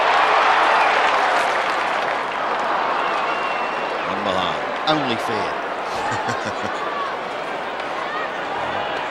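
Football crowd at a 1992 Hawthorn v Geelong match, a loud sustained roar and cheer that swells then settles into a murmuring hum beneath a commentator's voice.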